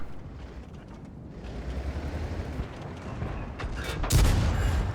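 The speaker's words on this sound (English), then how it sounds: "Oh, Ricochet on the KV-3." Tank cannon fire and shell ricochets in World of Tanks, with a KV-3 taking hits: dense battle rumble builds up before a sharp, loud cannon blast near the end, with no voices.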